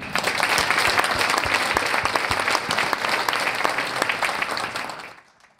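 An audience at an Internet Hall of Fame ceremony applauds in a sustained, dense burst of clapping welcoming Leonard Kleinrock, loud and steady before fading out at the end.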